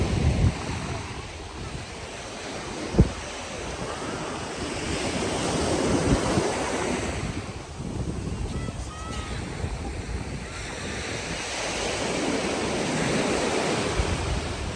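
Continuous roar of ocean surf breaking on Bournemouth Beach, with gusty wind buffeting the microphone and one brief sharp knock early on.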